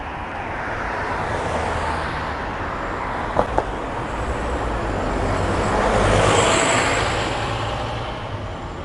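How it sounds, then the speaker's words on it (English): A city bus pulls into stop 42A outside the main entrance of Modbury Hospital in Adelaide, its steady engine rumble rising and falling over continuous roadway noise, with two short sharp clicks partway through. "we can see that the bus is just calling into the bus stop at the hospital, bus stop 42A"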